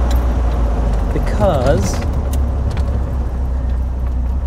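Steady car interior drone of an engine and road noise while driving on a balmy summer evening, with a brief spoken word and a light jangle midway.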